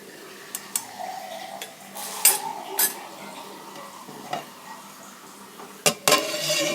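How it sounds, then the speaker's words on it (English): Spoon stirring chopped celery into vegetable soup in a pot, close scraping and clinks against the pot over a faint sizzle, with a few sharper knocks, and no talking. "I'm going to add the beautiful celery that we just chopped up. And let's just stir things around a little bit."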